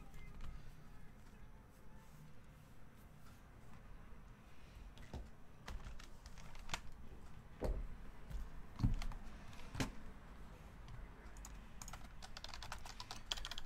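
Typing on a computer keyboard during a baseball card break of 2019 Topps Archives Signature Series, a steady patter of quiet key clicks over low room noise with a few louder isolated taps.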